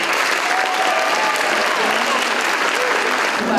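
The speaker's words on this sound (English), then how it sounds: "Let's have another round of applause for this year's King and Queen, their court, and the parents of these students." Dense, continuous applause from a crowd at a high school homecoming coronation honoring the King and Queen, loud and close, sustained throughout with a few faint voices mixed in.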